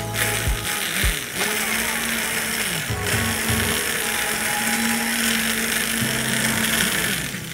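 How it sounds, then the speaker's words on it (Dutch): A blender purees a bean soup made with potatoes and fennel, giving a loud, steady mechanical whir with brief stops and restarts near the start. "Dan gaan we de soep pureren."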